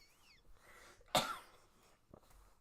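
One short, sharp cough, close and distinct, standing out against a quiet background.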